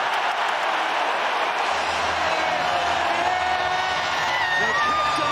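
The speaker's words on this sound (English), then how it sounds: "The crowd on their feet." A big stadium crowd roars steadily after an Ireland rugby try in an Autumn Nations Series match, the loud cheering sustained and unbroken with a voice talking underneath.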